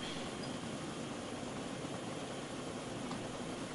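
A Little Bird helicopter flies in the video game DayZ, giving a steady, even drone of rotor and engine noise. It stays faint and constant throughout, with no voices.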